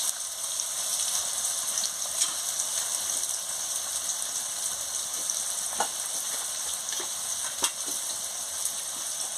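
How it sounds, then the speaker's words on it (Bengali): Onions and bay leaf frying in a pan for chicken curry, a steady soft sizzle with scattered crackles and pops, continuous and fairly quiet, with no talking. "এবার আমি পেঁয়াজটাকে ভালো করে ভেজে নিচ্ছি।"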